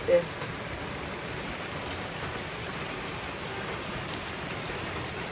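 Steady rain falling on a surface, a constant hiss with no pauses, evenly loud throughout and no voices.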